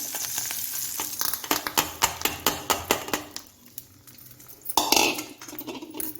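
Mustard seed tempering is tipped from a small pan into chayote chutney, with a rapid run of sharp metal spoon taps on the pan, followed by a soft splash and a brief sizzle, close and without talking.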